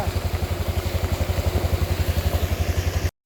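A motorcycle engine chugs steadily in a rapid, even pulse, loud and close as it rides into a rain-soaked lot, then cuts off abruptly at the end.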